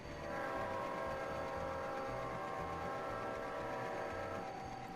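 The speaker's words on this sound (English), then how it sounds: "this is what the horn sounds like" Train horn in the Roblox game Rails Unlimited, a steady sustained multi-tone blast held throughout over a constant rumble of the moving train, with no talking.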